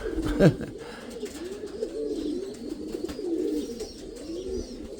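Pigeons coo softly in repeated low, throaty phrases, with a sharper call near the start and faint background noise throughout.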